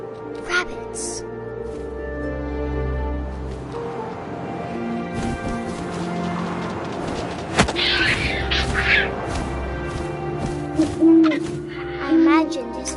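An owl hoots in What Remains of Edith Finch, heard among wind, rustling and ambient game sounds, with a narrator's voice running through much of the scene.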